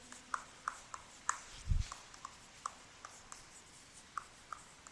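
Chalk or marker writing on a board during a maths lesson on sets: a string of faint, sharp taps and short strokes at an uneven rhythm, with one brief low thump, in a quiet room with no talk.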